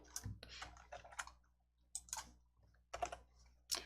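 A computer keyboard tapped in a few quick bursts of clicks, close and fairly quiet, with short pauses between groups of keystrokes while a save shortcut is pressed.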